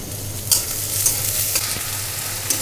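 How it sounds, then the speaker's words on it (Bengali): Onions frying in a pan in a home kitchen for a roast dish, a close steady sizzle with occasional stirring clicks, over a low hum. "পেঁয়াজ ভেজে নেওয়া হচ্ছে রোস্টের জন্য"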